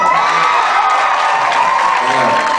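An audience at a concert cheers loudly and continuously, with whoops and shouts blending into a dense, steady crowd roar with clapping throughout.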